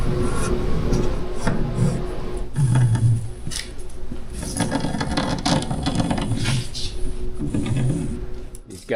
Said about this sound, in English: You just cranking this machine under here, and it's pulling the string, cutting the glue.